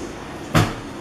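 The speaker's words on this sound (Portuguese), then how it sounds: "Então ele tá abrindo a porta dessa forma" A car door on a GM Celta opens with one short, solid thud-click, close and fairly loud against a quiet background, with no talking.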